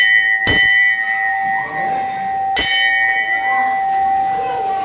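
Metal temple bell struck twice at a Hindu temple, each ring a sharp clang with a long sustained shimmering tone that lingers between strikes, loud and close with faint background activity.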